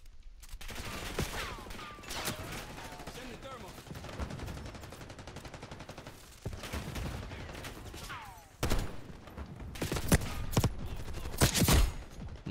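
Light machine gun fire in Black Ops 6, loud nearby bursts that grow denser and heavier toward the end, mixed with other game sounds and sweeping effects, with no talking.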